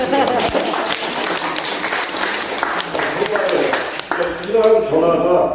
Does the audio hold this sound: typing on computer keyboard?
no